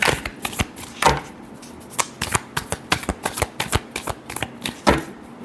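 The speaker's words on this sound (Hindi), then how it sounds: "Last shuffle, the magician with the fool." Tarot cards riffle and shuffle in quick, crisp bursts, a dense run of close, papery slaps and flutters with no voices.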